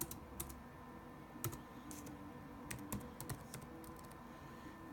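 Fingers tap quickly on a computer keyboard, entering a baseball player's name into a roster screen, with light irregular clicks at close range and no talking.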